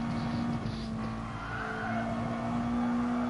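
In a racing game, a Mazda Touring Cup race car brakes hard at Circuit de la Sarthe, its tires squealing and skidding over a steady engine drone for a few seconds.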